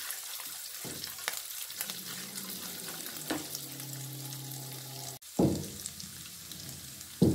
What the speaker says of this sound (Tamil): நல்லா எல்லாம் பொரியட்டும்.